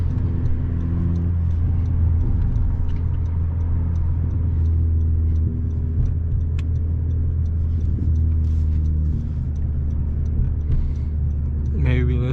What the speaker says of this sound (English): Love the sound of this exhaust.